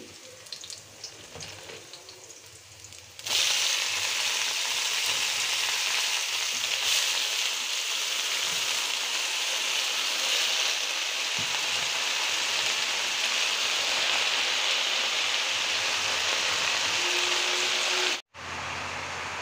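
Leafy greens drop into hot oil already holding fried chillies and onion, setting off a sudden loud sizzle that then holds as a steady, close, dense crackle.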